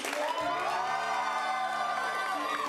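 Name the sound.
audience applause and cheering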